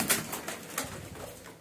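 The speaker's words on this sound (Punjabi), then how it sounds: "ਮੋਹਰਾਂ ਵਾਲੇ ਕਬੂਤਰ ਵੀ ਇਹਨਾਂ ਕੋਲ ਜ਼ਿਆਦਾ" Pigeons kept by a breeder give soft cooing calls, a few faint low coos with brief flutters close by, with no talk over them.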